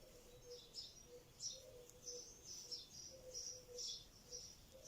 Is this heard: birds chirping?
yes